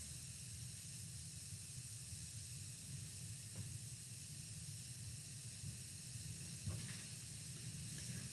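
A homemade bath fizzy fizzes in water with a quiet, continuous hiss throughout, close up, with no voices.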